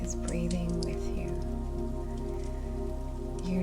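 Rain falls steadily on the roof of a cabin in the woods, a dense continuous patter with a low hum beneath, even and close throughout.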